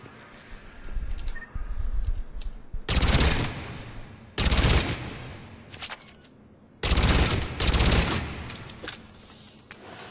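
The Shuriken submachine gun fires in Mass Effect 3 target practice, coming as repeated loud bursts of rapid shots separated by short pauses at mid-range.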